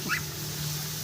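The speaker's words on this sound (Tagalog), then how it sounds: "Aso." A dog gives a short, high whimpering yip close by, a single brief cry over a quiet low hum.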